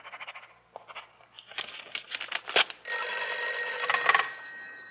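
A telephone rings in an old-time radio drama, a steady electric bell that starts abruptly partway through and holds loud and close. Brief clatter and movement come before it.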